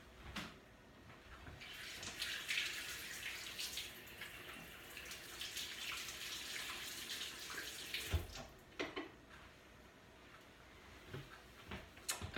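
Kitchen tap water runs steadily into a sink as hands are washed, a continuous close hiss with a few clunks and taps near the end.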